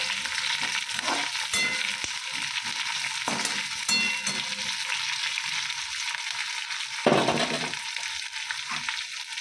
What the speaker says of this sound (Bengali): তো বন্ধুরা ডিমের ঝোলটা বসিয়ে দিচ্ছি